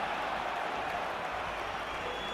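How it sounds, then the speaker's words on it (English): A crowd cheers and applauds at a sports game, a steady wash of distant clapping and noise throughout with no clear individual voices. "As you can hear by the cheering, let's score that one in."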